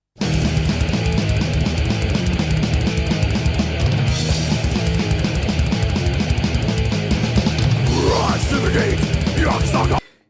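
Dense, loud distorted death metal in a guitar passage, with fast tremolo-picked riffing and pounding drums running nonstop, then squealing whammy-bar bends and wails near the end before it cuts off.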